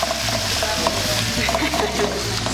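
Stuffing with fresh rosemary and thyme is stirred in a hot pan, a loud close sizzle with scraping, shuffling stirs and a low hum underneath.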